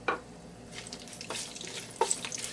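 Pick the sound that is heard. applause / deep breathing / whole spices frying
whole spices frying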